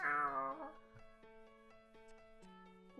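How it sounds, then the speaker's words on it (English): A cartoonish cat meows in the video game Purrfect Date, a drawn-out, wavering cry at the start. Steady game music plays over it, and a voice talks at times. "Hey look, kitty cats."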